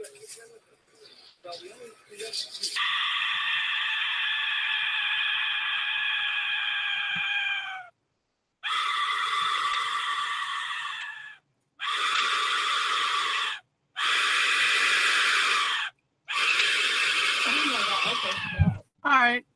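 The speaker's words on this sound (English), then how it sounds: "So this is the death whistle." A death whistle blown in long, shrieking bursts that sound like human screaming: one sustained wail of about five seconds, then four shorter harsh screams separated by brief pauses, loud and close.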